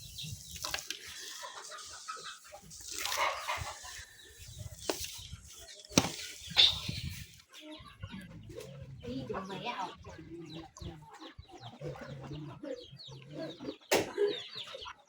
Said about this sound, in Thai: ดูไก่ตะวัดได้